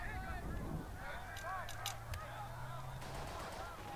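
Mortar blasts and gunfire from the video game Burden of Command, set in Casablanca, crack in several sharp bursts over a steady rumbling battle backdrop, with a voice talking through it.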